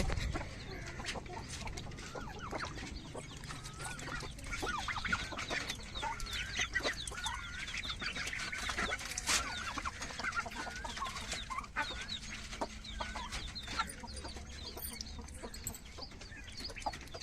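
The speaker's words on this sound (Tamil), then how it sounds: "இது கோழி குஞ்சு" Hens cluck and chicks peep in a busy, continuous chorus close by, with soft scattered chirps layered over low clucking.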